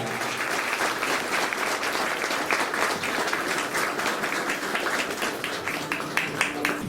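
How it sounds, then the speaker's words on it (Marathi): A crowd applauds at a ceremony in the Konkan region, a loud, sustained wash of clapping that carries on evenly throughout. "जोरदार टाळ्या वाजवून आपण सर्वांनी या सोहळ्याचा साक्षीदार होऊया."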